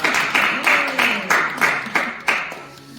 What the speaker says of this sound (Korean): 박수 받으셔야 되겠네.